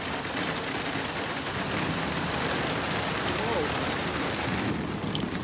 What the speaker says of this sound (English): One of my favorite things to do is sit here and watch as the rain approaches.